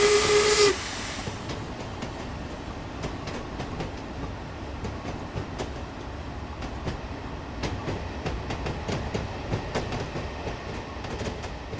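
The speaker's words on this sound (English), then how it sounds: "the locomotive that I was using for these scenes is the default Cuju era Black 5" Black 5 steam locomotive in Train Simulator, opening with a short loud steam whistle blast, then a steady rolling rumble with repeated rhythmic clicks and chuffs at an even pace, moderately loud and continuous.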